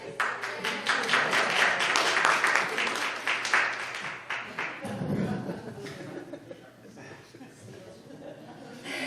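Applause from a church audience, a dense patter of many hands clapping that swells at the start and fades after a few seconds, with some chuckles and a voice speaking as it dies away.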